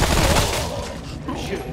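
Gunfire in the video game Remnant: From the Ashes rattles in a fast, dense burst that is loud at the start and eases off slightly, with a voice briefly mixed in.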